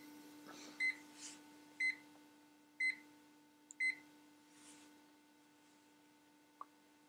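Four short electronic beeps from an insulation tester at a steady one-per-second pace, fairly faint, over a constant low electrical hum.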